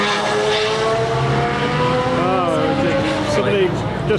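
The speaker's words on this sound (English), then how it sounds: "the car's gone past up the hill" A car engine drones steadily with a whining, shifting pitch as the vehicle drives past and climbs away up a hill, heard over continuous background noise.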